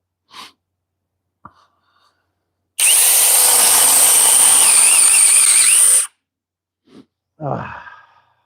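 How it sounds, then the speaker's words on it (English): A DeWalt spade bit, not self-feeding, bores into wood in a single loud burst lasting about three seconds, with brief faint handling noises and breaths before and after. "this is a DeWalt spade bit, and this is a true spade bit"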